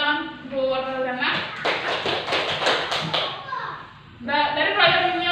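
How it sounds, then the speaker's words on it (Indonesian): Classroom students clapping hands in a short burst of quick claps in the middle, with a teacher's voice talking before and after. "terus berikan tepuk tangan buat sana."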